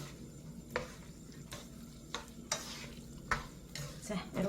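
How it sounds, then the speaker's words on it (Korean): Bean sprouts and glass noodles tossed in a pan for japchae, with soft scraping stir strokes and light clinks of a utensil against the pan over a faint sizzle, sparse and close. "이렇 해서 조금 한 2분 정도만 볶아주세요"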